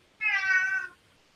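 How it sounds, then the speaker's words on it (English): A pet cat lets out a single clear meow, close by and on its own in a quiet room. "Yeah, that's my cat."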